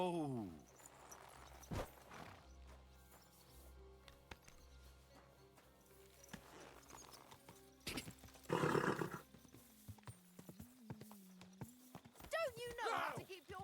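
Horse hooves clop in a video game set around Kuttenberg, a few scattered hoof beats mixed with a whinny and game sounds, with voices talking over parts of it.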